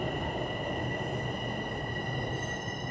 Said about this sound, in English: this is the northbound train